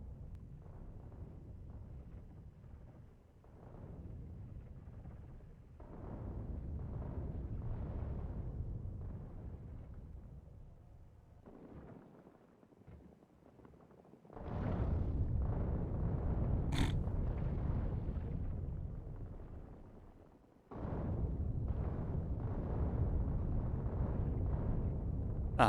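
Heavy artillery shells in Factorio land as deep, rumbling explosions, some distant and muffled, others louder and closer, rolling in long sustained booms with a quieter lull midway.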